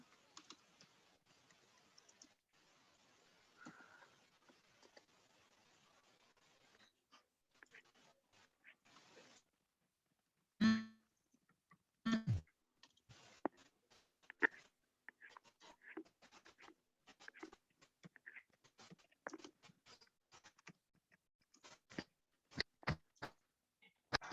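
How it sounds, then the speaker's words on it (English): Keystrokes on a computer keyboard tap in irregular bursts, faint at first and then louder and denser after a short pause, with no talking over them. "I'm typing something, so let me just type."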